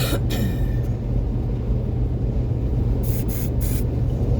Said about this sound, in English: I'll spray some now.